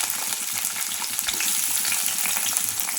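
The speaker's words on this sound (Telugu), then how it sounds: "ఇప్పుడు ఇందులోకి ఉల్లిపాయలు అయితే వేసుకోవాలి." Onions sizzling and frying in hot oil in a pan for a Telugu tomato and dried prawn curry, a steady, loud crackle with no pauses and no voices.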